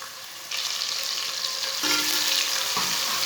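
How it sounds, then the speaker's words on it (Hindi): Finely chopped onion hitting a pan of hot oil with cumin and coriander, a sudden loud sizzle that swells and holds steady and close, with no talk. "1 बरीक कटा हुआ प्याज डाल लेंगे।"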